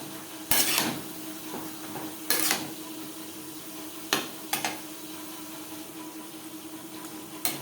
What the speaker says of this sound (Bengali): লবণ হলুদ লাউর সাথে বেশ ভালো করে মিক্স করে দেবো